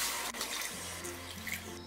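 Water is poured from a cup onto sugar for gulab jamun syrup, a soft, close trickle and splash lasting about two seconds with no talking.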